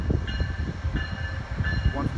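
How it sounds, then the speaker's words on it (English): A northbound Angels Express train pulls into Fullerton station during Friday night rush hour, a steady low rumble with clattering wheels and faint high brake squeals running throughout. "Here's the northbound Angels Express pulling in."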